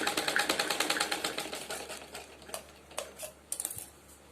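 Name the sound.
sewing machine stitching a suit seam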